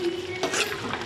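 A spoon scrapes and clinks against a pan while stirring a thick prawn masala thokku, a brief burst of stirring over a low steady hum.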